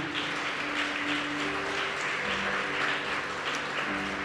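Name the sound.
congregation applauding in church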